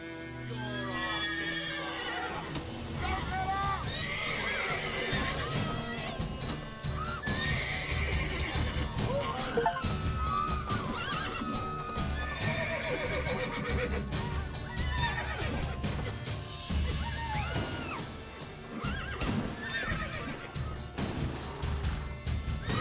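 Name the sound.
horses neighing and hooves in video game The Witcher 3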